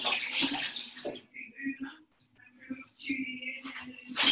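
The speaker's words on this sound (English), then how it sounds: "I'm gonna get my knife and just rinse off clean" A knife rinsed clean under a running kitchen tap while making a lemon meringue pie: a broad water rush at the start and again at the end, with quieter clinks and handling between and speech-like sounds mixed in.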